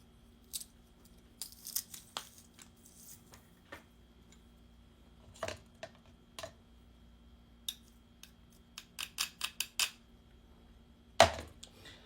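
Garlic is crushed and pressed over yogurt in a quiet kitchen, heard as a scattered series of short, sharp crunching clicks and taps, faint to moderate, with a louder snap near the end.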